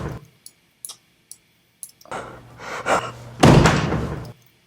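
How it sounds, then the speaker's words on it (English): A door slams shut with a loud thud near the end, preceded by scattered soft clicks and a rising rustling movement. "even though the door has slammed and closed"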